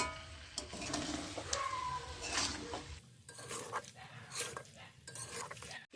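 A spoon scrapes and stirs chicken curry with milk in a pan on a home stove, giving irregular clinks and scraping strokes over a soft sizzle, fairly close and quiet.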